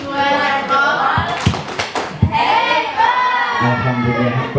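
Audience at a school positive-culture dissemination session doing a short thumbs clap, a few sharp claps and taps mixed with crowd voices and cheering, with people talking throughout.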